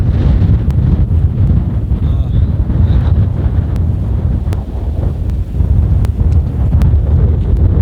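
Strong hot wind at a desert ranch, roaring steadily and loudly across the microphone with a heavy low rumble and no letup.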